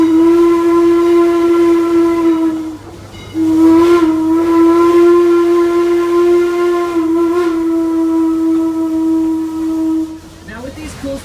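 A steam locomotive whistle on a heritage railway sounds in loud, sustained blasts, one long tone broken by short gaps and a final cutoff, with hissing steam underneath.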